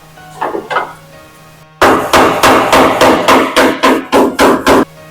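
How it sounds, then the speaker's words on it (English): Hammer blows ring out at close range: a couple of lighter taps, then about ten loud, sharp strikes in a steady rhythm, with no talk over them. "maybe we go ahead and use the hammer instead"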